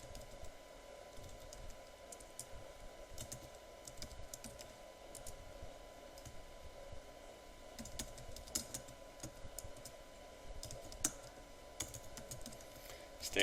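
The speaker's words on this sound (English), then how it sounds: "I'm going to type these in." Column headings typed on a computer keyboard, a quick uneven patter of soft key clicks in short bursts, fairly close and quiet, with a faint steady hum beneath.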